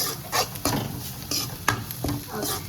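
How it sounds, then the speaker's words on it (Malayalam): A spatula stirs and scrapes spicy masala in a frying pan, with soft sizzling beneath a few sharp clinks and scrapes against the metal. The sound is close and moderately quiet, with no talking. "അതൊന്ന് പച്ചമണം മാറുന്നത് വരെ ഇളക്കി"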